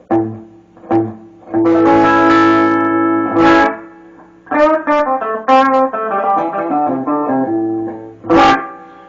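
Clean electric guitar notes and chords from a vintage Les Paul with a noticeable reverb tail, played in short phrases with pauses between, ringing out clearly.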